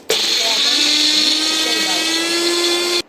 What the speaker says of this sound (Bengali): দিয়ে দিচ্ছি আমি এই মিক্সির খানে